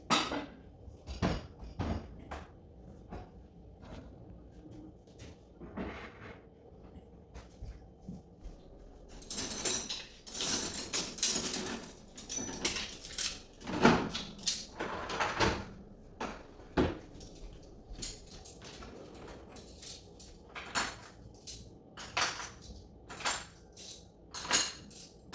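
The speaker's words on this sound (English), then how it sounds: "So I did the dishes last night. I'll go ahead and put them away." Clean dishes being put away into kitchen cupboards: scattered clinks, knocks and cupboard thumps, sparse at first, then busier clattering bursts through the middle before thinning out again.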